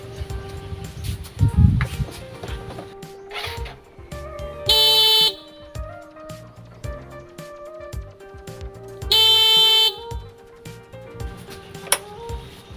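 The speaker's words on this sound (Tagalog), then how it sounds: "Ganito mga ka-DIY yung tunog ng busina na walang interrupter relay" A car horn with no interrupter relay sounds in two steady, unbroken blasts, each held for about a second, with clinks and background clatter between them.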